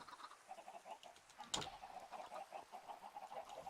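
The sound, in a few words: chicken clucking in the video game Minecraft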